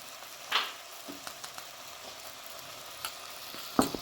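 Spicy Jaffna-style cuttlefish curry sizzles in a pan while being stirred, a soft continuous frying hiss broken by a few sharp scraping clicks of the spoon against the pan.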